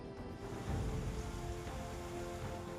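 Heavy rain pours down steadily over a city street in Chennai, making a dense, continuous wash of noise with a low rumble underneath, fairly faint and with no one talking.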